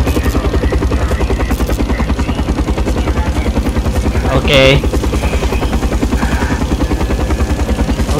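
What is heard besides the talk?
helicopter in Call of Duty Black Ops video game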